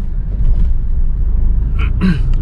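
A car engine pulls under load while driving, a steady loud low rumble running throughout, with a brief higher clatter near the end.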